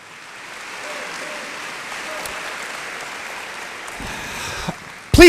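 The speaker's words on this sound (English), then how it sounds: "let's have a nice round of applause for our junior ROTC presentation of colors" Audience applause for a junior ROTC presentation of colors at an opening day event, a steady wash of clapping from a large crowd that continues for several seconds before a voice begins.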